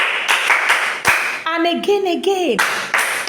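Students in an Epie language class clap for a classmate in two brisk bursts of close, crisp handclaps, separated by a short spoken prompt from the teacher.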